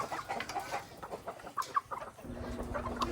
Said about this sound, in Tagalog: papakain tayo ng manok